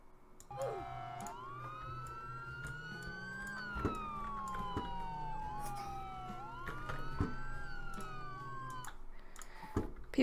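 Police car siren in the Roblox game Mano County Patrol, a wailing electronic tone sweeping up and down repeatedly at moderate level, joined by overlapping siren layers and brief clicks.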